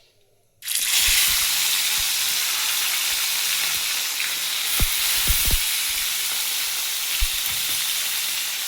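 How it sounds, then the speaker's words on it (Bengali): Pomfret fish frying two at a time in hot, lightly salted oil: a loud, steady sizzle bursts in after a brief silence and continues throughout, broken by a few soft thumps and splutters. "আমি এভাবে দুটো দুটো করে মাছ ভেজে নেব"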